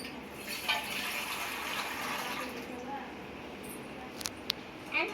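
Water runs and splashes into a bowl set out for washing vegetables, a continuous soft gushing that carries on throughout, with a few small clinks toward the end.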